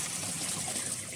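Water flows steadily into a fish pond kept at a block of flats, a soft, continuous trickling hiss heard alone.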